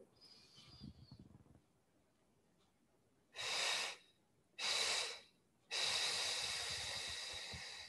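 Three slow, deep breaths during chair yoga, each a loud airy rush, the last one long and drawn out like exhaling through a straw, separated by quiet pauses, close to the microphone.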